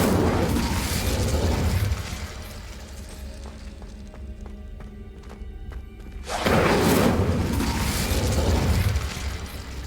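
Incendio fire spell in a Harry Potter video game, a loud whooshing burst that dies into a quieter mechanical lull before a second roaring blast erupts, with no voices.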